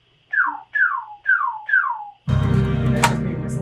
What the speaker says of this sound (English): That's just me whistling.